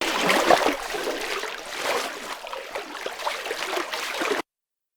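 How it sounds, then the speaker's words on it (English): Loop of water friction made as a box moves through water: a steady, broadband wash of swishing, trickling and gurgling that stays fairly even in loudness, then cuts off abruptly near the end. "A friction loop which we want to play when the box is moving in the water."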